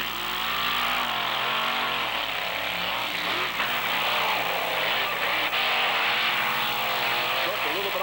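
A monster truck engine roars loud and continuous during a qualifying run at a beach event, its pitch rising and falling with revving, while an announcer talks over it.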